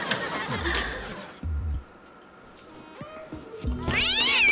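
A cat meows a few times in the video game Stray, a brief cry near the start and a rising meow near the end, with faint game ambience and light laughter around it.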